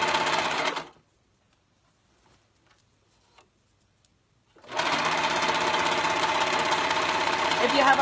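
A serger stitches a skirt pocket seam, its fast motor whirring loud and close in two long runs separated by a few seconds of near silence.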